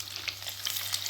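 Mutton koftas fry in a pan over a low flame, giving a steady close sizzle with small crackling pops throughout and no voices.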